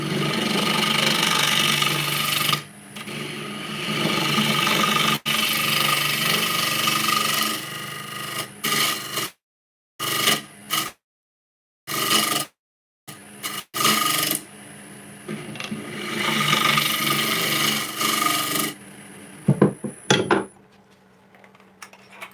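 Wood spins on a lathe as it is faced off, a continuous scraping, rasping cut with metallic overtones that breaks off into several abrupt pauses and restarts before running steadily again, close and loud with no talk.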